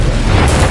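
A Confringo blasting spell explodes in the Hogwarts Legacy video game, giving one short, loud, booming burst with no pause.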